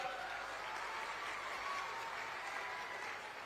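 A crowd at an outdoor political rally in Nanded for Home Minister Amit Shah breaks into loud, sustained applause, dense and steady for the whole stretch with no voice over it.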